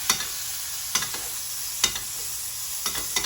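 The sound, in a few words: steak sizzling in pan while being basted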